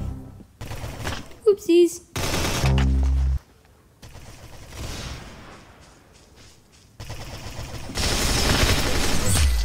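Gatling gun firing in the Roblox game Arsenal, short loud bursts of rapid game gunfire broken by gaps, with a voice speaking briefly between them.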